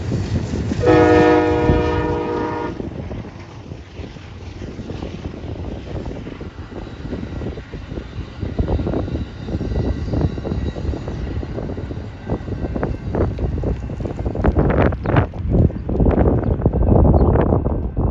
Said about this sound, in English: we've been waiting for the Amtrak to pass us along US Highway 2 here, and there it is.